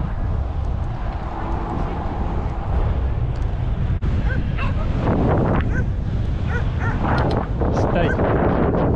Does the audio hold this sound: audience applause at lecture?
no